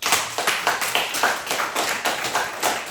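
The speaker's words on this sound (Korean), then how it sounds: "성가대 한번 박수 한번 쳐줘요." Church congregation at a Sunday service applauding the choir, a steady dense round of clapping lasting a few seconds, loud and even, with no talk over it.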